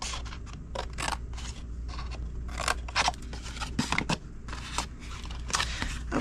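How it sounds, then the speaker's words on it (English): Scissors cutting through cardstock for a paper treat box craft, a close, steady series of crisp snips and rasping cuts, repeated in quick strokes throughout. "Cut off the rectangle and wedge the square."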